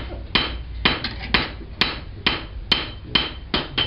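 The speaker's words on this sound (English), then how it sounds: "standing over on the work, hammer down on it." A hammer strikes metal work in steady, evenly spaced blows, about eight sharp, loud clanks with short ringing decays and nobody talking.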